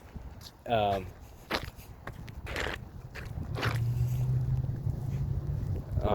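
Footsteps crunch and scuff over ice outdoors among parked RVs, with wind buffeting the microphone and a voice speaking between the steps.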